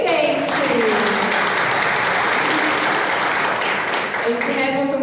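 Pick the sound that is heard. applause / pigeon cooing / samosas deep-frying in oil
applause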